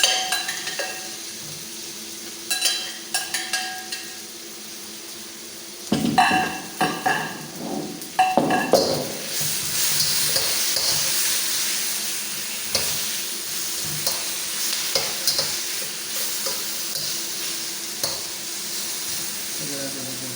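Chicken and beef being stir-fried in a pan for pancit gisado, with steady sizzling and repeated scraping stirs that grow louder and busier partway through, close by.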